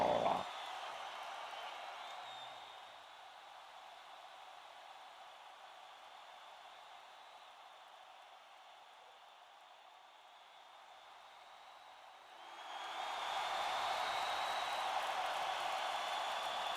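Sustained crowd roar and applause from a large wrestling audience at an indoor event, holding steady for a long stretch then swelling louder near the end.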